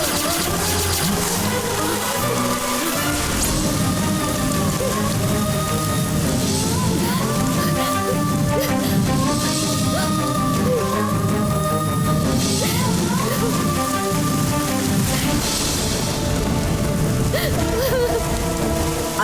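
Heavy rain pours down steadily and densely on surfaces without pause, with a soft melodic background line running beneath the constant downpour.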